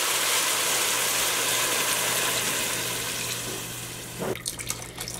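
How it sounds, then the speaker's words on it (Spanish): Water pours steadily into a pot of rice cooking with sautéed garlic, a loud continuous rushing splash that tapers off near the end, followed by a few faint clinks. "Agregamos las 3 tazas y media de agua."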